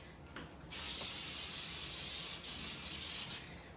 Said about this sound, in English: the first thing I'm going to do is spray my pan with Baker's Joy